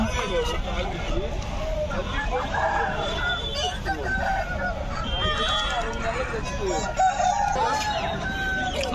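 Several roosters crow and honking fowl cluck over a busy, noisy crowd of people talking nearby at a chicken market in Nallapadu.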